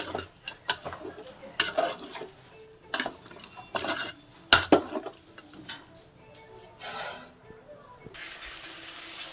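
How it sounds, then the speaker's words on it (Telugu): A spoon clanks and scrapes around a metal pot of donkey meat curry in repeated uneven strokes, loud and close, with a soft hiss underneath and no speech. "ఇప్పుడు మనం కలుపుకుందాం ఇలా బాగా"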